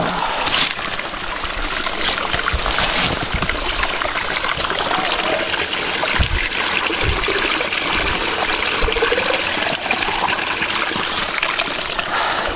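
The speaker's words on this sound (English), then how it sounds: "There's the water coming from way above." A mountain stream on a spring trek to Kuari Pass, fed by water running down from high above past snow patches. The rushing flow is close and steady throughout, with a few faint knocks and no talk.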